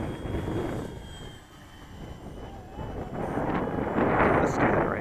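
An E-flite 1200mm T28 RC model airplane on a 4S pack cruises around the field, its motor and propeller whine rising and falling as it passes, with wind buffeting the microphone throughout.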